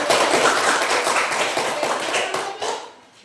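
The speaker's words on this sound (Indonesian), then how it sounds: "Kita berikan dulu tepuk tangan." Classroom audience applauding a group presentation, a dense burst of many hands clapping together, loud at first and thinning out toward the end.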